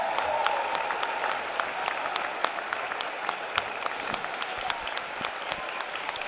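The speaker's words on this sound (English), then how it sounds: "Give them a round of applause" A high school basketball crowd at the Lancaster Lebanon League boys' championship gives the runner-up Warwick Warriors steady, dense applause that fills the gym at an even level.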